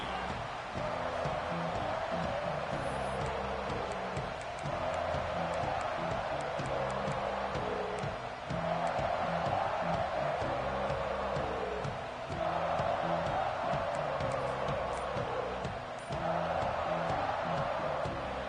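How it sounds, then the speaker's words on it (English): A college football stadium crowd roars in a steady, dense wash of noise, swelling in waves after a kick return stopped at the 19-yard line, with no clear single voice standing out. "This crowd ready to make its presence known"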